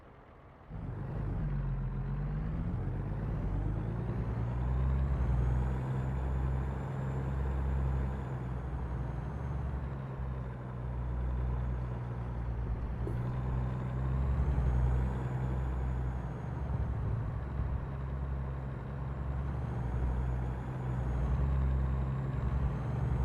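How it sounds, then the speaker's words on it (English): Kenworth 680 truck in a trucking video game idling with a steady low engine rumble and whir, close and continuous, with faint hissy air-brake tones riding on top and no talking. "This is a Kenworth 680."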